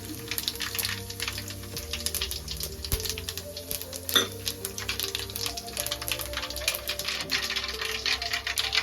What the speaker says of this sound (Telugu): పోపు దినుసులు వేసుకోవడం జరుగుతుంది.